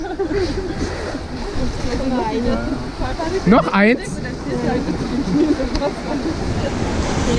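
Water rushes and splashes over a raft on the Fjord Rafting river ride at Europa-Park Rust, a loud continuous wash of surf-like noise with excited German talk and shouts over it.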